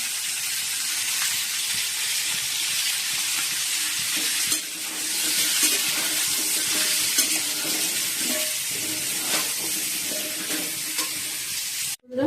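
Steady broadband frying sizzle with stirring, from paratha being made in a pan in a home kitchen beside ready vermicelli and a potato-chickpea curry. It runs continuously and close throughout, with a brief dip midway and a cutoff at the end.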